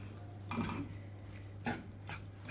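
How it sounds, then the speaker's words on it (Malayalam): Masala-coated chicken stirred in a pan for Christmas butter chicken, with a few soft scraping and clinking strokes of a spoon against the pan over a steady low hum, quiet and close. "നന്നായി മസാല ചിക്കനിൽ പിടിക്കത്തക്ക രീതിയിൽ ഇളക്കി മിക്സ് ചെയ്തെടുക്കുക"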